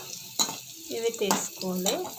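Cumin seeds sizzling in hot oil in a pan, a soft crackling fry broken by a few sharp clinks and scrapes of a stirring utensil, with someone speaking briefly near the start.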